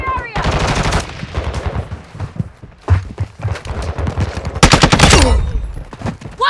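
Machine gun fire in a military video game, rapid loud bursts of automatic shots interleaved with shouted callouts and in-game voices, with a heavy sustained burst near the end.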